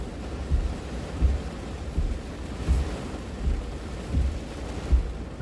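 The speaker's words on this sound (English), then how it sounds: "Because it's raining like crazy." Heavy rain with thunder, a steady low roar of downpour broken by repeated deep rumbling booms roughly every second, loud and close with no voices.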